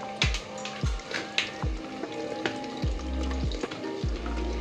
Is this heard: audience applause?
no